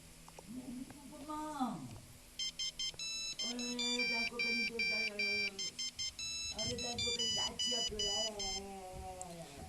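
A phone rings in a Toca Boca game, repeating bursts of bright electronic beeping tones in a steady rhythm, layered with a voice talking before and during the ringing.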